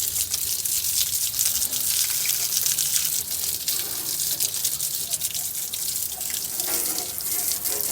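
Water hose spraying and rinsing degreaser off the aluminum bumper of a 1947 bus, a steady close hiss and gush of water running without a break throughout.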